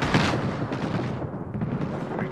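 Video game gunfire in an Apex Legends match with Wattson: dense, continuous heavy shooting and booming impacts, loud and close, with no pause through the short burst.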